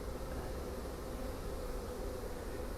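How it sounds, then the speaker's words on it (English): A dense, steady buzzing of many package honeybees being installed in a Warre top bar hive fills the clip, continuous and close, with no other sounds. "Careful not to hurt any bees."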